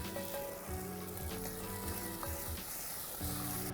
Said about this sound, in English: Fry the tomato puree into the onions and garlic.